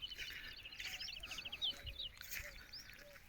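A koel cuckoo calls in a farm field where carrots are grown, its clear, rising whistled notes repeating several times over a soft outdoor background, with other faint bird chirps nearby.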